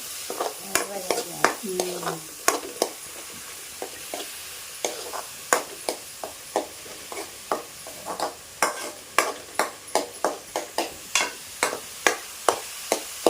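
Green chillies and coconut frying in oil in a pan for a Maharashtra-style potato kurma, with a steady low sizzle under repeated sharp scraping taps of a spoon stirring, close and moderately loud, no talk.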